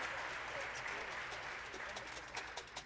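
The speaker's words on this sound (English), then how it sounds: "Give them a round of applause." Spring jazz band concert audience claps for the band's players, a quiet, fairly distant round of applause with a few sharper claps near the end; a voice may be faintly present underneath.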